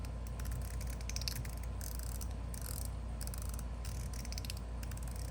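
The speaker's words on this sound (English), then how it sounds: "So we've got little brass cups in now, which I'm now realizing I guess might make more noise." Small brass cups rattle inside a Metal Toys DZ Top-C spark mechanism, giving a faint, continuous ratcheting clatter over a low background hum, with no talking.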